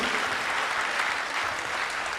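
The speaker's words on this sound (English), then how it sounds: "Let's give a bigger round of applause for Raseshwar Madhav Prabhu" An audience claps together in a dense, steady round of applause throughout a Sunday feast program.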